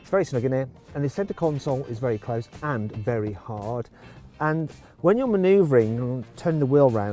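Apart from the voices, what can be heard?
None of the usual background noises is heard.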